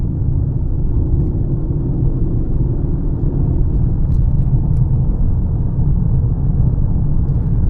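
A Mercedes CLK rolls over a rough road surface, heard from inside as a steady, loud low rumble of tyres and road noise with no voices.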